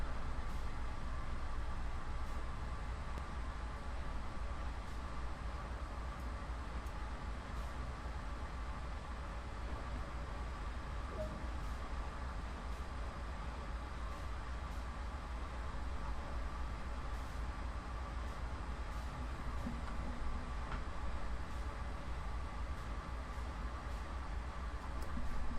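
Steady rumbling drone of a locomotive moving along the track in Train Sim World, continuous and even throughout with no talk.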